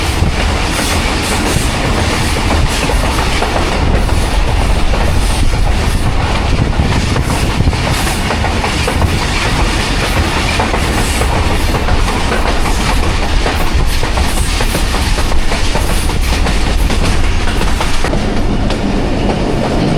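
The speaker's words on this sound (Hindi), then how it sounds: "13 अवाम एक्सप्रेस अप्रोच बना रही है हसन अब्दाल रेलवे स्टेशन पे" Passenger train 13 Up Awam Express running on rails near Hasan Abdal station, a loud continuous rumble with rhythmic clatter of wheels over joints throughout.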